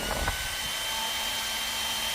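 A Xiaomi H500 hair dryer runs on its low first speed, giving a steady, close airy whoosh with a faint motor whine. It sounds alone, with no voices.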